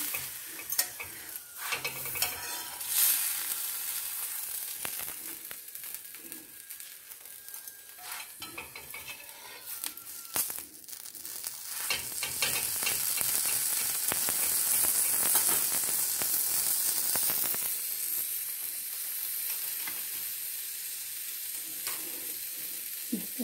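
Millet taco shells frying and crisping in a pan, a steady close sizzle with intermittent scraping and stirring clatter, growing louder midway and continuing without any talk.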